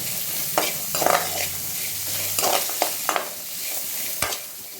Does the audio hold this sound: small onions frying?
yes